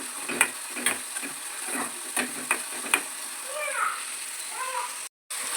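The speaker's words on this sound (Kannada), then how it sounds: "ಈರುಳ್ಳಿ ಹಾಕ್ಕೊಂಡಿದ್ದೀನಿ. ಫ್ರೈ ಮಾಡ್ಕೊಂಡು" Onions fry in a pan with a bright sizzling hiss and a rhythmic run of stirring clatters, then a cat meows a couple of times nearby before a brief drop to silence.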